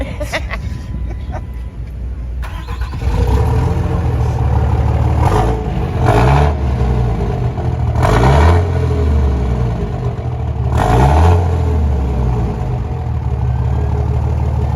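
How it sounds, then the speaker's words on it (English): A turbocharged car engine idles, then revs hard several times, each rev climbing and falling with a rising turbo whine, loud and close. "Hear that turbo?"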